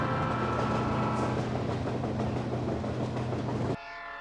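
An Alaska Railroad train rolls past, a loud continuous rumble with rhythmic wheel clatter and tonal horn-like hum close by, cutting off abruptly near the end to a quieter background.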